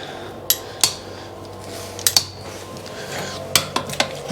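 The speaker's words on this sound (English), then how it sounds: "You don't want to over tighten these nuts, just nip them till they grip." Metal spanner work on brass compression fitting nuts on a repaired burst pipe: sharp metallic clinks and clacks in small clusters, a couple close together then pauses, near and fairly loud over a quiet room.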